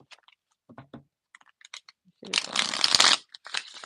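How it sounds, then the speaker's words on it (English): A deck of cards is riffle-shuffled close up during a card reading, preceded by scattered soft clicks and handling taps, then a dense, crisp burst of flapping cards lasting about a second. "Let's shuffle, shuffle, shuffle."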